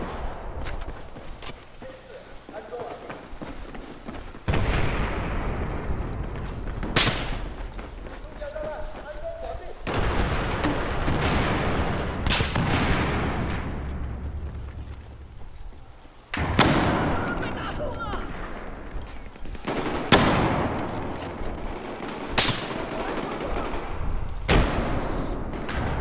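Sniper rifle fire in Battlefield 4, several sharp loud shots spaced seconds apart, each with a booming tail, over battlefield rumble and background voices.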